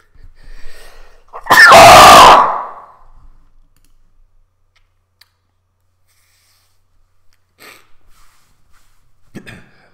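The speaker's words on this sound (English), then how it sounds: "I've got a sneeze coming on, guys." A single loud, close sneeze bursts out abruptly, followed by near silence with a few faint clicks and small rustles.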